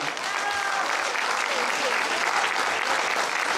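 An audience claps in dense, sustained applause at a folk music concert, loud and continuous throughout.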